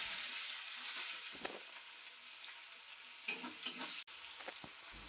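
Chopped onions fry in oil with cumin seeds for a spicy aar fish kalia, making a continuous soft sizzle broken by a few spatula stirs and scrapes, with no voices.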